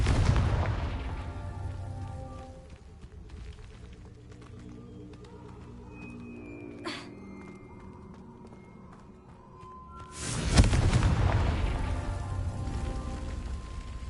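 A Confringo fire spell in Hogwarts Legacy that ends in a loud booming explosion with a long rumbling tail, after quieter game sounds and an earlier impact at the start.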